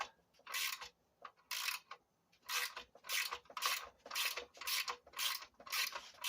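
Ratchet working on the catalytic converter shield studs of a 2008–2010 Honda Accord, a close, loud rasping clicking in about nine regular bursts with brief pauses between strokes.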